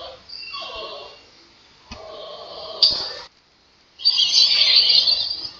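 Bird call played as one of the animal sounds in a guessing game: high chirping and warbling tones in separate bursts, with a brief pause between them and a louder, fuller trill at the end.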